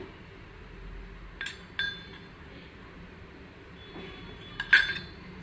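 A spoon stirs a spoonful of cinnamon powder into a one-litre mug of water, giving a few light, faint clinks against the mug over a quiet background.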